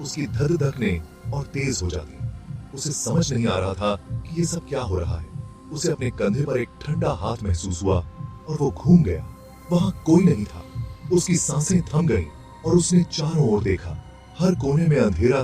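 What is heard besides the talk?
None of the usual background noises is heard.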